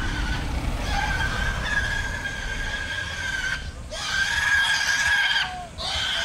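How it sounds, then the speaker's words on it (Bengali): Pigs squeal loudly while being carried in a vehicle on a rainy roadside in rural Bohol, Philippines: shrill, sustained cries repeat with short breaks between them. "শুকরগুলো চিল্লাচ্ছে।"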